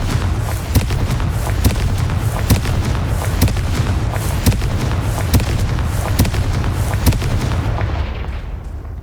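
Confringo fire spells in Hogwarts Legacy burst in a rapid series of loud, booming blasts over a dense rumble, with the explosions falling in a fairly regular rhythm before easing off at the end.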